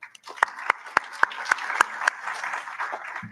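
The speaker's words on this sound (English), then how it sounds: "please join me in a round of applause for our incredible sponsors for today." Applause from an event audience, heard as a round of sharp, distinct claps at a steady rhythm that loosens into scattered softer clapping, fairly close and without talk.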